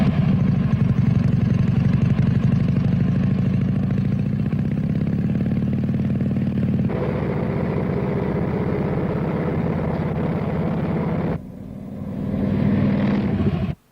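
Motorcycle ridden during a test in 1960, a steady loud engine drone with shifting pitch as it runs, changing tone partway through before a brief drop and a final rev.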